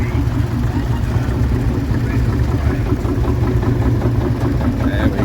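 A grey Ferguson vintage tractor engine runs at a steady idle at an outdoor vintage show, a continuous low, close chugging drone with no breaks.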